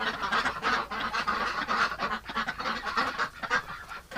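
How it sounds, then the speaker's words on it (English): Ducks on a farm heading into winter give a busy run of loud, overlapping honking quacks that rise and fall in quick bursts, close by, with no people talking. "There are so many pretty ducks."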